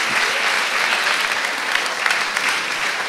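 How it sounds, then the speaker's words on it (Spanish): Audience applause in a hall after a talk, a thick sustained roar of many hands clapping, loud and close, with a few sharper claps standing out. "l'Eduard i l'Arnau i el Miquel, per tant, un aplaudiment per ells"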